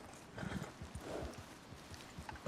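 Horse hooves clip-clop in the game Red Dead Redemption 2, a quick rhythmic series of close, dull thuds across the whole stretch, with faint wind-like background and no speech.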